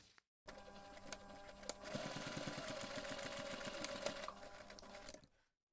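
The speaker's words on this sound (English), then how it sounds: "we're going to take this to the machine and top stitch our trims on both sides" A sewing machine top stitches trims onto both sides of a fabric coin pouch in one steady, close run of rapid stitching lasting about five seconds, with no talk.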